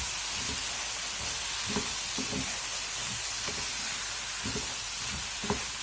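Steady sizzling and hissing of chopped green beans frying in a pan, with occasional soft scraping knocks as they're stirred.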